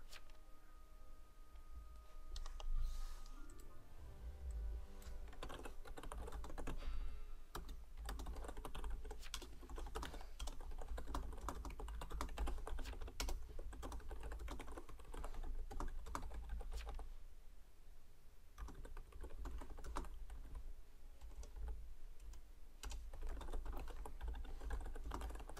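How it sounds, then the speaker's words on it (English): Steady, continuous clatter of keys on a computer keyboard, close and fairly quiet, with rapid uneven keystrokes running throughout and no talking. "I'm just typing out things too."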